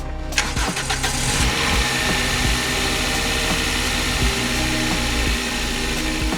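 A Toyota Celica engine cranks and catches after a rocker cover gasket replacement, then settles into a loud, steady idle with a constant low rumble throughout.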